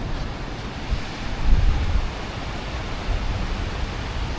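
Sea waves wash onto the shore in a steady, broad roar with a slightly stronger surge partway through, mixed with wind buffeting the microphone and no voices.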